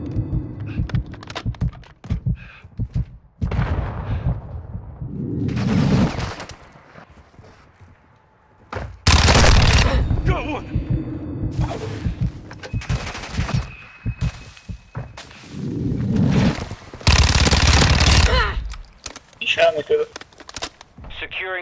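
Gunfire in a first-person shooter game, loud bursts of automatic fire and explosions in several clusters, mixed with game voice callouts and other combat noise.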